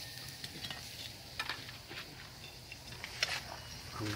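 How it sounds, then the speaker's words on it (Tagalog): Food bubbling in a pot over an outdoor cooking fire, a faint steady simmering hiss with soft pops and light clinks, low in level, with no talking. "Kumukulo na, kumukulo. Kumukulo-kulo na."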